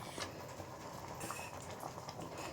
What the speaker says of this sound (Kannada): ಈ ಥರ ಚೆನ್ನಾಗಿ ಕುದ್ದಿದ್ದಾದಮೇಲೆ ನಾವು ಸ್ಟವ್ನ ಆಫ್ ಮಾಡಿಕೊಂಡ್ರೆ ಸಾಕು